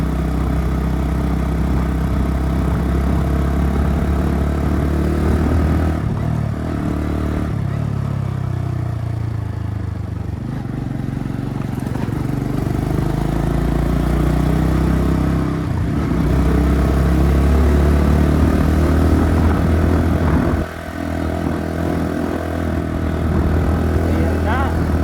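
A Honda CB110 motorcycle engine pulls uphill in third gear, a steady close drone with a low throb that holds its pitch, while someone talks over it throughout.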